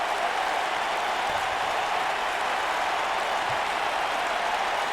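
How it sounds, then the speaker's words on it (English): A wrestling crowd roars in a loud, unbroken wash of cheering and clapping, a distant, hissy arena din holding steady throughout. "This crowd just got apoplectic!"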